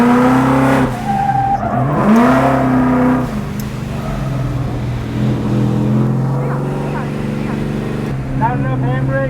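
Car drifting laps on a track with the handbrake at a Holley Ford Festival, with a loud engine revving up and down and tires squealing in sweeping pitches, steady and close throughout.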